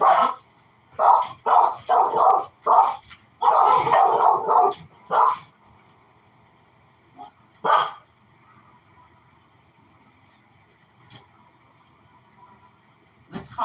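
A pet dog barks excitedly in repeated bursts at a husband arriving at the front door, loud and close, with a few scattered barks trailing off after the main flurry.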